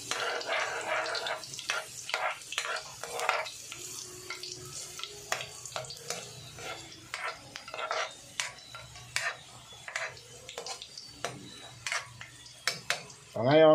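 Garlic frying in cooking oil in a pan for a bitter melon vegetable dish, a steady soft sizzle under repeated clinks and scrapes of a utensil stirring against the pan, with occasional talk.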